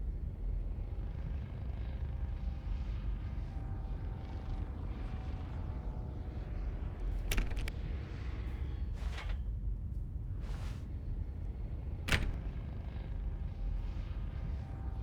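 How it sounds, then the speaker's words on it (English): Low, steady airplane-like rumble in the video game The Stanley Parable, a continuous broadband drone throughout with a couple of brief sharp bursts standing out, no voices. "Sounds like an airplane."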